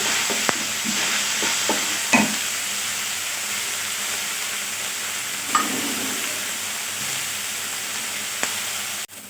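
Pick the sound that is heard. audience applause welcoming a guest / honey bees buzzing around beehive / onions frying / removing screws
onions frying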